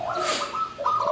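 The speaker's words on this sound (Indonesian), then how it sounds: "Pada kesempatan pagi hari ini kita melakukan pengembunan terhadap burung-burung anggungan kita" Songbirds kept outdoors in the morning dew give a short, soft cooing call nearby, a brief rising-and-falling coo repeated once within about a second.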